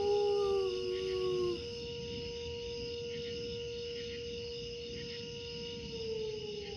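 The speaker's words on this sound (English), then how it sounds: "that's not a wolf, that's a siren" A wailing siren that sounds like a wolf howl, a long tone sliding up and down and holding steady, loud at first and then steady and quieter, with no talking.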